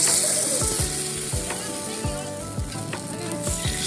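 Kuzhi paniyaram batter fries in hot oil in a paniyaram pan, a loud, steady close sizzle and crackle with faint tapping or stirring clicks repeating through it.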